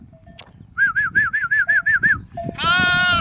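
A sheep gives a long wavering bleat, then another loud bleat follows, with soft rustling and a faint chirp in the background.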